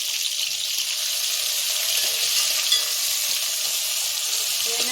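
Green chillies and onions fry in hot oil in a pan, a steady close hiss of sizzling with faint stirring, no voices.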